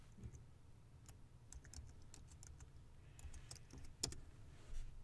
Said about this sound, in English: I'll take this code and I'll type it into that little color swatch area